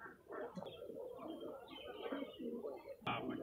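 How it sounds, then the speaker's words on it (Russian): Pigeons cooing at an outdoor market fair in Kropotkin, soft low repeated coos close by with a few faint chirps and background market murmur. "Вот вам покажу, какие бывают голуби."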